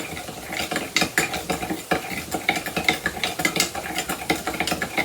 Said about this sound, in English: Okay, and then we're going to give each of these a mix.